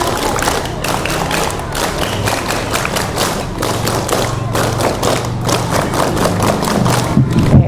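A group of young Pramuka Siaga scouts doing the patterned scout clap, with rapid rhythmic hand claps and thuds, loud and close, mixed with the children's shouts and cheering.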